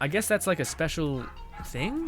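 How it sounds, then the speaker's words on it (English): Several dogs bark and yip in rapid, excited bursts close by, mixed in with someone talking during a live-streamed gaming session. "sorry for the dogs being absolutely fucking mental"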